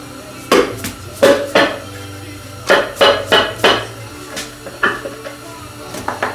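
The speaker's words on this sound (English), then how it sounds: "Then we'll take the front cover off next." Removing the front cover from a Ford Mustang 5.0 V8 engine during a Foxbody teardown: a series of sharp metallic clanks and knocks of parts and tools, irregular and close, in a quiet workshop.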